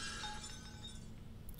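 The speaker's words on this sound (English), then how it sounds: "So we're going to get a little bit of variation in how loud that glass breaking is." Glass shatters in a sound effect, a bright crash with tinkling fragments that fade quickly into a quiet tail.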